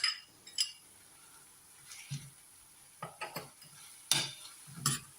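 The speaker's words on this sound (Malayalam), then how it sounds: "ഇനി ഇതിനകത്തേക്ക് 1 കപ്പ് സാമ്പാർ ചീര അരിഞ്ഞത്" Chopped sambar greens go into a pan and are stirred with a utensil: intermittent scraping and clinking strokes against the pan, close by, separated by short quiet gaps.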